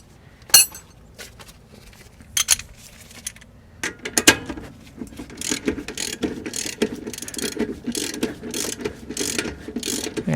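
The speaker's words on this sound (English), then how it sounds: "Alright, now we can switch to a ratchet." A hand ratchet clicks in short bursts while backing out a bolt on car suspension, with brief pauses between strokes and faint metallic clinks nearby.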